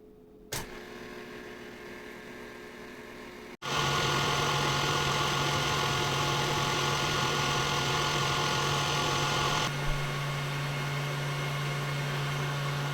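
An electric mixer whips cream toward stiff peaks, starting with a click and then whirring in a steady close motorized hum that shifts slightly in tone partway through.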